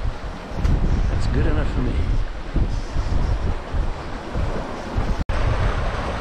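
Strong wind rushes over a sailboat at sea on the Bay of Biscay, a steady broadband roar with surf and water noise, buffeting the microphone throughout while someone speaks over it briefly.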